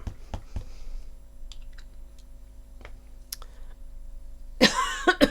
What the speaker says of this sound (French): Voilà que je tousse maintenant.